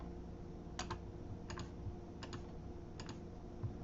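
Faint computer mouse clicks come in four quick double-click pairs at a steady pace over a soft, constant room hum.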